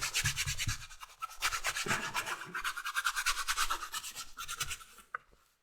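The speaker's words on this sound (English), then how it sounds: "a little bit of buffing here to kind of shine it up a bit" A leather holster for a Sig 1911 compact is buffed to a shine with rapid, rhythmic rubbing strokes, a close scratchy swishing that runs steadily before stopping abruptly.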